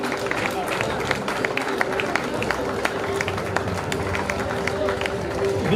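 Graduation ceremony crowd clapping in a dense, continuous patter over a steady hum and murmuring voices, with no pauses throughout.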